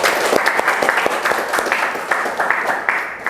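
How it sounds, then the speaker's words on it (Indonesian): A classroom group claps together in steady, dense applause throughout, close and lively, with no one speaking over it. "Berikan aplaus untuk kita semua"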